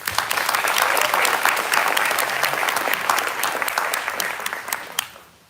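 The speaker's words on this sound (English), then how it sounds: "Let's give them a round of applause." A graduating class gets a round of applause at a sheriff's office community briefing, dense clapping from many hands that is loud at first and tapers off over about five seconds.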